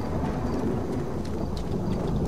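Steady heavy rain with a low rumble of thunder in the survival video game How To Survive 2, a dense, continuous wash of downpour filling the whole short stretch with no talking.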